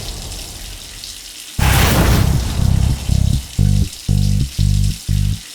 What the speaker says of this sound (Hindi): ये पानी की आवाज बाथरूम से आ रही है ना?